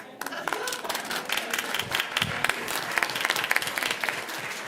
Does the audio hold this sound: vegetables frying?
no